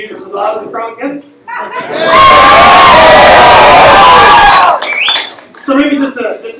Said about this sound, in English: This is loud as the crowd gets.